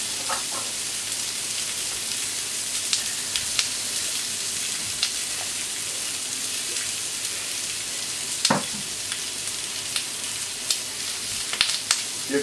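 Guinea fowl thighs frying skin side down in a pan, a steady close sizzle with small crackles and pops scattered across it and no talk.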